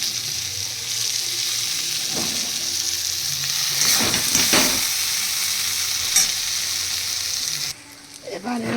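A spatula stirs fried spices in a hot pan for moong dal, a continuous bright sizzle with scraping strokes building in the middle, then the sizzle cuts off near the end.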